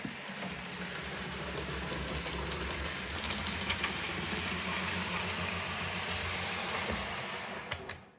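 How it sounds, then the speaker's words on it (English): A model railway ferry train runs on a layout, a steady low rumble with faint clicking that holds evenly from start to finish and fades at the end, with no talk over it. "the ferry train should come along here and stop."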